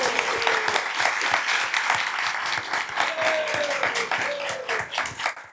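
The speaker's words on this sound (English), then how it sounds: "Thank you so much for the applause, for the tribute" Sustained applause from a crowd at a tribute to a Brazilian soccer world champion, dense clapping that holds steady throughout with a few faint tonal sounds underneath.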